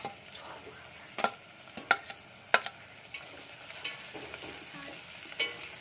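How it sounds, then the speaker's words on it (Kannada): Curry leaves and green chilli fry softly in a pan for raw mango chitranna, a quiet low sizzle punctuated by several sharp clicks of a spatula scraping and stirring. "ಇದೆಲ್ಲ ಹಾಕೊಂಡು ಸ್ವಲ್ಪ ಫ್ರೈ ಮಾಡ್ಕೊಳ್ಳಿ"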